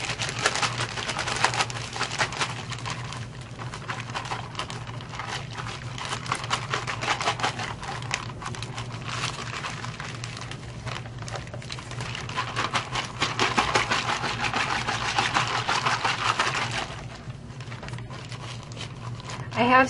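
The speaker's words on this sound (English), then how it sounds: "give it a good shake and mix it up for about a minute" A plastic bag holding Cool2Cast powder and water is shaken hard by hand for mixing. It gives a continuous crinkly rustle and rattling patter with loud bursts, close to the ear.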